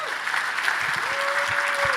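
A banquet audience applauds the honoree, a steady full wash of clapping from a large room that carries on without a break, with a faint voice or tone ringing beneath it.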